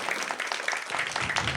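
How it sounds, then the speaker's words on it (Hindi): An audience at a neighborhood gathering claps briefly with a light, patchy patter of hands. A voice can be heard underneath the clapping. "जोरदार तालियों से माननीय विधायक जी और सांसद जी के लिए स्वागत किया जाए।"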